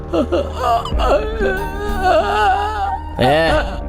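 A man in a lion skin, urged to roar like a lion, instead whimpers in a wavering, crying-dog voice, a near and loud vocal imitation with short sobbing breaks and a final rising wail.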